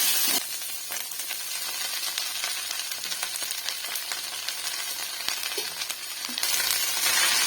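Fresh home-grown mint leaves stirred into dal frying in a hot pan, a steady close sizzle with scraping stir sounds, rising louder near the end as the leaves hit the oil.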